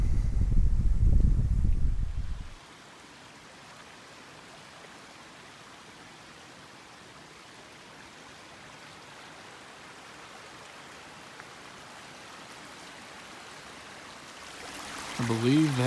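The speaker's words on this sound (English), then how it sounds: "There's that little creek." A soft, steady wash of flowing water fills most of the stretch, a faint creek murmur with wind, after a louder opening moment.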